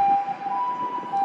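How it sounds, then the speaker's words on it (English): An ambulance siren wails steadily on a wide multi-lane street in rural Japan, holding a sustained warbling tone over low traffic rumble for the whole moment, fairly close and clear with no talking. "There's the ambulance coming in."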